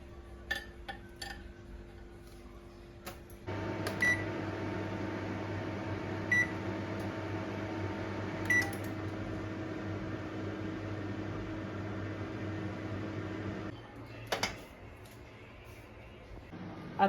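An oven running with homemade vegetable pizza inside gives a steady low hum that starts after a few seconds and stops near the end, with faint clinks, a few short beeps and light kitchen clatter around it.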